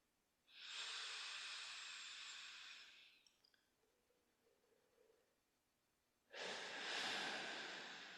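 Slow, deep breathing close up: a long airy inhale, a quiet pause, then another long breath, each smooth and soft with no talking.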